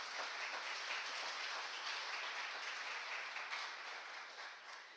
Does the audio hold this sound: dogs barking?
no